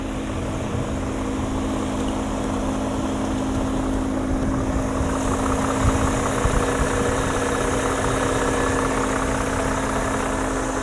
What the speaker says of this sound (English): take a look at this 5-liter S62 V8.